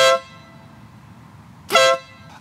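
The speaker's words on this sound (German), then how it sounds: "ist hier bei meiner Vespa eine Kompressorhupe eingebaut" A compressor horn fitted to a Vespa GTS scooter gives two loud, close, brassy blasts: a short one at the start, then a second after a pause, with quiet in between.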